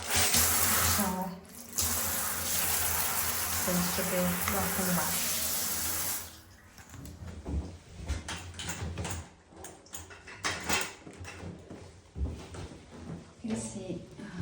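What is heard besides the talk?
shower running water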